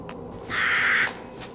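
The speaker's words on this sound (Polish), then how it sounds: "ptaka wystraszyłem" A startled crow in Resident Evil Village gives a single harsh, drawn-out caw, loud and close over a faint ambient background.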